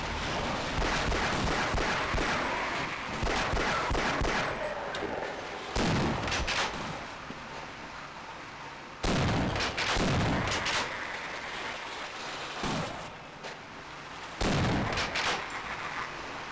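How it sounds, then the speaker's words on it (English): Repeated blasts of a SPAS shotgun in Half-Life: Blue Shift, heavy booming shots spaced several seconds apart over constant dense game noise. "The shotgun is way worse, sound-wise."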